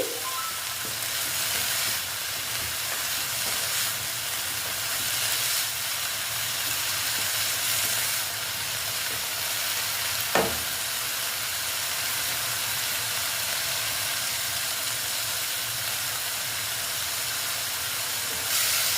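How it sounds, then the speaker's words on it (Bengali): Data greens fry in a pan with a loud, steady hiss and sizzle, close up, under occasional stirring and one sharp knock of a spoon against the pan. "দিয়ে আবার আমি এটাকে নেড়ে চেড়ে নিচ্ছি"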